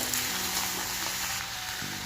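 Unripe jackfruit fries with spices in a pan, giving a continuous, even sizzle with a faint stirring undertone and no speech.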